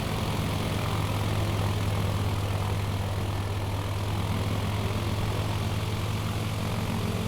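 Steady, continuous propeller aircraft engine drone from Microsoft Flight Simulator, a loud low hum with a constant tone that holds unchanged for the whole stretch, with no voices over it.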